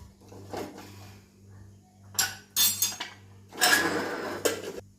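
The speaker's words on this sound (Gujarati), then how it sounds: "હલાવીને પેક કરી દેવાનું ઢાંકણ" Vegetables being stirred in a pot for pav bhaji, then a lid being set on the pot, producing bursts of metallic clatter and scraping between quieter gaps, close and fairly loud over a low steady hum, with no talk.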